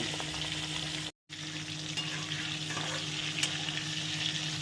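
Fish frying in hot oil in a wok, a dense continuous sizzle with a brief cut partway, steady and close, with occasional light scrapes.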